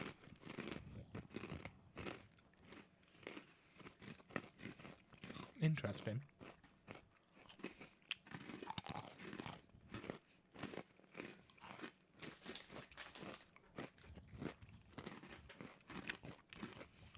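Loud, rapid crunching and chewing of jalapeño-flavoured snack chunks, close to the mic and continuing steadily for many seconds, with brief speech mixed in.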